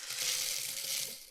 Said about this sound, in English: pour a little popcorn in there